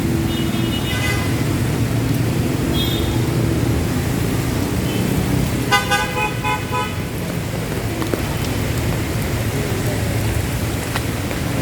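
Traffic crawling along flooded Taft Avenue in rain, with several car horns tooting in short bursts, one cluster of honks louder and nearer midway, over a constant hiss of rain and engine rumble.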